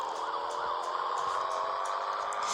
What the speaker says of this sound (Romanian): Sirena frumos, așa.